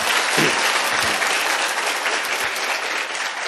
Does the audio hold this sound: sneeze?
no